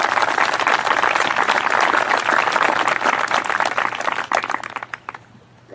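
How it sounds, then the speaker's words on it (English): Loud audience applause at a high school graduation ceremony, dense sustained clapping from a large crowd that thins and fades out near the end. "That's absolutely worthy of applause"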